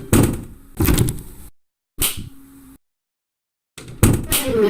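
Door sounds in the video game Baldi's Basics, several loud thuds and swinging bangs in separate bursts with dead silence between them.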